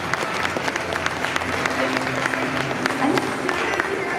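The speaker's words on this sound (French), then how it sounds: "c'est bien, vous pouvez l'applaudir." Crowd at the EquitaLyon 2018 equestrian fair applauds a horse during a clicker-training demonstration, with sharp scattered claps over a busy hall murmur and some voices talking.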